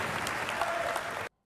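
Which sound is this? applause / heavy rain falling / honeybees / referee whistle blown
applause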